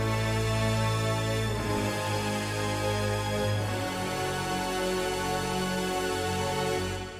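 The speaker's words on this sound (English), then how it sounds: "The brass and the strings together sounds like this." Epic trailer-style orchestral music with brass, including layered French horns, and strings playing together in dense sustained chords, loud and steady throughout with no talking.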